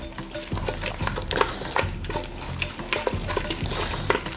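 Churro dough being mixed as eggs are worked in one at a time, a steady close scraping and stirring with soft wet slaps, continuous and fairly loud with no talk.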